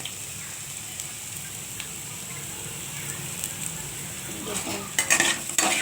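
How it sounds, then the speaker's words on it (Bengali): Onion with turmeric and spices fries in a pan, a soft continuous sizzle under a low hum, and toward the end a few louder scrapes and clinks as it is stirred; a voice speaks briefly. "এটার সঙ্গে ভালো করে কষিয়ে নিতে হবে"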